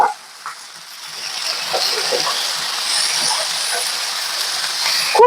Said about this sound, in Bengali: এবারে এই দুটোই একই সাথে তুলে দিয়ে ভেজে নেব।